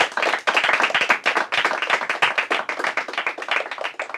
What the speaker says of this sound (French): Un grand applaudissement pour toutes les équipes.